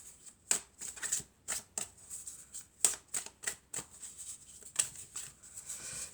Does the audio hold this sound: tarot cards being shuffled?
yes